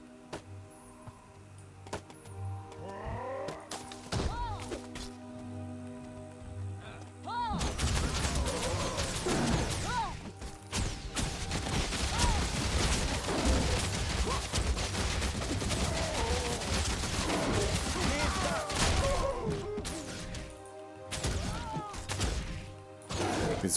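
Gunfire in the video game Guild Wars 2, with sparse shots early on, then a long, dense stretch of rapid shooting and impacts that stays loud throughout.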